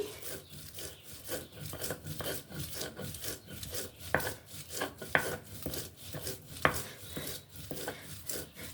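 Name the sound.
grinding tulsi leaves with stems on a grinding stone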